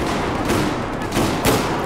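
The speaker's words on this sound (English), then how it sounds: "Shotgun time in the city." A shotgun fires in the city map of the shooter game Battlefield 4, with two or three sharp blasts spaced about a second apart over a dense, noisy battle background.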